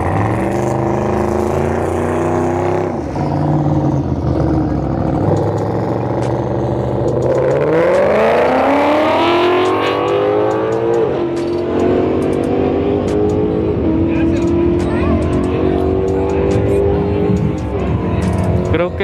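Engines of a red Mustang GT and a Camaro rev loudly and continuously at a drag strip, rising pitch sweeps as the cars accelerate, with crowd noise and some talk underneath.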